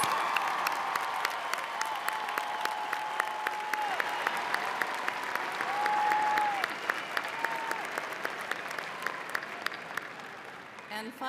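Large audience at an Ohio University spring undergraduate commencement applauding magna cum laude graduates as they stand; steady, sustained clapping fills the hall throughout, with a faint voice and tonal sounds drifting beneath.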